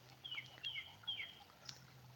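Several small birds chirp and call in short bursts at dusk after sundown, faint and somewhat distant over a low steady hum, with no talking.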